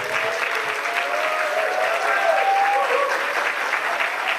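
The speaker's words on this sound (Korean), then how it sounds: "우리 박수로 좀 축복해 주시면 감사드립니다." Church congregation applauds during a Sunday service, steady dense clapping from a large room lasting several seconds, with a voice faintly audible over it.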